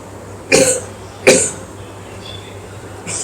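A man, a tuberculosis patient at a hospital, gives two sharp, close coughs about a second apart, then a faint throat sound, over a quiet room hum.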